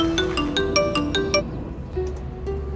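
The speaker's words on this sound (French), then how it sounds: "Ah, son téléphone sonne." A phone rings with a repeating electronic melody of bright, evenly spaced tones, close and steady, then fades into a softer repeated chime over room noise.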